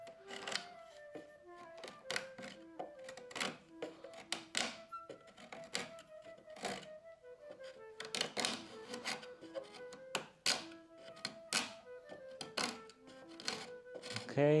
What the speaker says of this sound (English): Some more scraping, or maybe even with actually the card scraper.